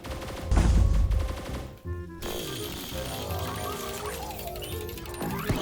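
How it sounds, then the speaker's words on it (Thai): Rapid bursts of gunfire in a Roblox robot factory escape game, a dense loud rattle of shots up front followed by steady crackling fire and clatter. "ยิงแบบโคตรรัว"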